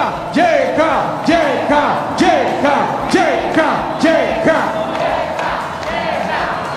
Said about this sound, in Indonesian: Semua boleh teriak JK.